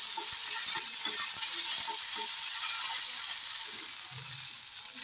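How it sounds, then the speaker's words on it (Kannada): Mint leaves fry for red chilli chutney with a steady, bright sizzle and crackle. Light stirring scrapes repeat against the pan throughout. "ಪುದೀನ ಸೊಪ್ಪನ್ನು ಹಾಕ್ಕೊಂಡು ಫ್ರೈ ಮಾಡಿಕೊಂಡು"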